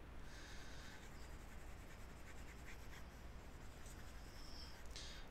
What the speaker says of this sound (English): So let me just erase this junk.